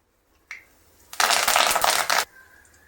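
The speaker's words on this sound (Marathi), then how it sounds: "जिरा मोहरीची फोडणी आणि कढीपत्ता टाकूयात" Cumin and mustard seeds with curry leaves hit hot oil in a kadhai for tempering while making Solapuri-style spicy brinjal curry, giving a loud, dense burst of crackling sizzle lasting about a second, preceded by a faint click.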